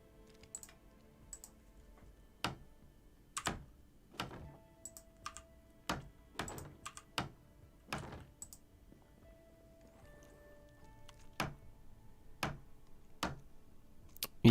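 Someone types on a computer keyboard during a modded Project Zomboid gaming session, with sparse, irregular keystrokes and a few quick bursts, faint and close against a quiet background.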